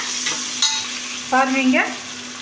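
Vegetables and coriander leaves sautéing in a pan for a jeera samba rice vegetable biryani, a steady close sizzle with a couple of brief scraping stir strokes over it.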